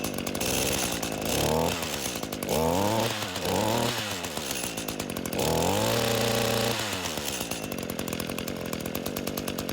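Echo SRM petrol garden strimmer engine droning loudly and close, revving up and down in several surges, with no talking.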